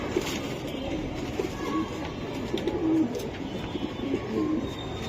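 Silver Giribaz pigeons coo softly and repeatedly at close range over a constant noisy background with faint passing traffic.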